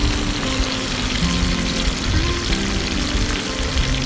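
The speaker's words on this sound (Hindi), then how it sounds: "जब ये अच्छे से भून जाए तो इसमें अपना मिक्सचर ऐड करेंगे जो हमने ब्लेंड किया है" A blended masala mixture fries in a pan for a chicken curry, crackling and sizzling loudly and continuously right up close, with no voices over it.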